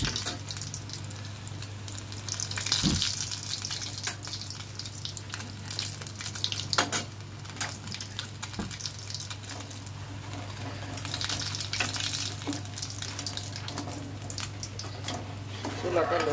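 Kheer-filled puli pitha frying in oil in a second batch over a low flame: a soft, continuous sizzle under a steady low electrical hum, broken by a few sharp clinks and clatters of utensils.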